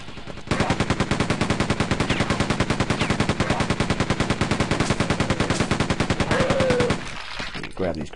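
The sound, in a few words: grenades exploding in Quake 2 video game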